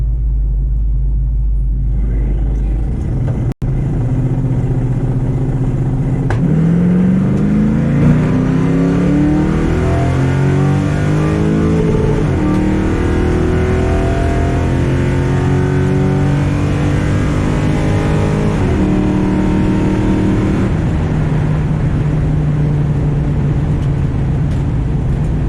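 A Chevy Nova at a test-and-tune drag event roars off the line racing a Mustang, its loud engine revving up through the gears in long rising sweeps, close and continuous for over twenty seconds, with no talking.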